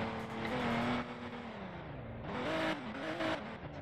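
A car driven in the Roblox game Liberty County, its engine droning and revving up and down in pitch with a brief surge near the end, steady and close with no talk.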